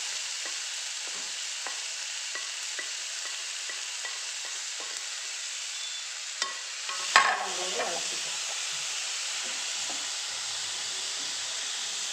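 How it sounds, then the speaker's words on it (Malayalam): Chopped taro stems stirred in a hot pan for a Kerala thoran, giving a steady soft sizzle with faint spoon scrapes and a brief louder clatter midway, no talk. "അതിനുശേഷം മുറിച്ച് വെച്ചത് ഇത് ഇതിലേക്ക് ഇട്ടു ചേമ്പിൻ്റെ തണ്ട്"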